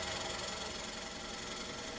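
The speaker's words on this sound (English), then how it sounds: "I use a parting tool to start making the recess" A parting tool cuts a recess into a wooden bowl blank spinning on a wood lathe, making a steady, dense, close whirring buzz with a faint rumble, with no voices.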